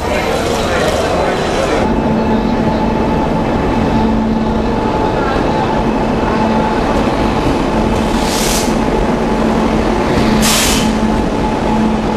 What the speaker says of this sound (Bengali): এক ঘন্টা লেটে উত্তরবঙ্গ এক্সপ্রেস ঢুকলো